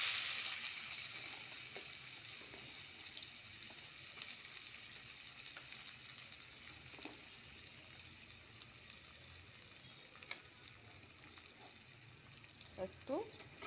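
Onions frying in oil with black pepper in a pan, a soft continuous sizzle with small stirring clicks and a few louder crackles near the end.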